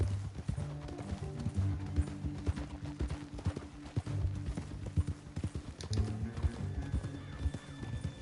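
Steady clip-clop of horse hooves in Red Dead Redemption II over a low, droning musical backdrop, with a brief whinny partway through; moderately loud and close.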